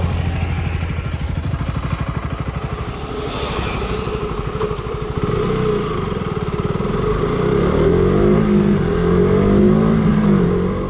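A KTM Duke 200 motorcycle on the road: a rapid, throbbing single-cylinder engine pulse under riding wind, then revving up with rising pitch sweeps as it accelerates, close and steady throughout.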